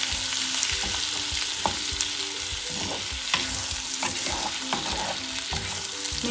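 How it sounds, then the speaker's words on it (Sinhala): Umbalakada, dried Maldive fish, stirred and fried in a pan with salt and turmeric for Sri Lankan wambatu themparaduwa, with steady close sizzling and repeated scraping strokes of a spoon against the pan. "උම්බල කඩ ටික එකතු කරනවා. එකතු කරගෙන හොඳට මේ ටික කවලම් කරගන්න."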